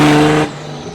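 A BMW with a JZ engine swap revs hard and loud at close range, a steady droning roar that suddenly cuts back to a quieter idle rumble about halfway through.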